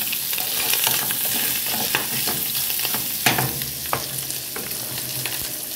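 Sausage frying in a pan at home, with a steady close sizzle and crackle throughout, scattered pops and stirring scrapes, and background music playing.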